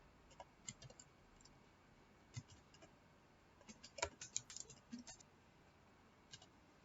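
Scattered keystrokes on a computer keyboard while entering jQuery code, quiet and close, in short irregular bursts with a denser cluster partway through and pauses between.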